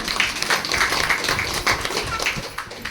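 Audience applause at a seminar, a dense spread of many hands clapping steadily for the full length, moderately loud and filling the room with no voices on top.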